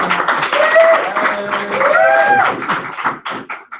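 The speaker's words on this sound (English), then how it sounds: "They're already clapping." An audience at a 2017 senior presentation applauds a welcomed speaker, a steady wash of crowd clapping that carries throughout while voices and a cheer or two rise over it, thinning toward the end.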